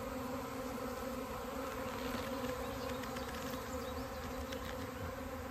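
A swarm of honey bees in the air, a dense, steady buzzing hum from many wings that fills the whole stretch without a break, with no voices over it.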